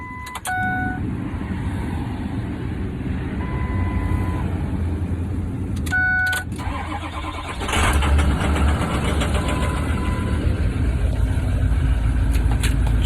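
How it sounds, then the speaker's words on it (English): A pickup truck's diesel engine fitted with a snowplow turns over and settles into a steady, loud idle that fills the whole stretch, with brief electronic chimes from the cab near the start. "turn the truck on. Gotta let the glow plugs heat up."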